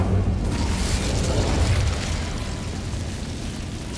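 A fire spell bursts out in the video game Hogwarts Legacy, a loud rumbling whoosh with a deep boom that swells in the first two seconds, then trails off into a steady roar with no talking.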